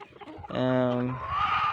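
Chickens on a free-range country farm give a short run of close clucking and calling, a sharp harmonic cackle followed by softer fowl sounds, with no people talking.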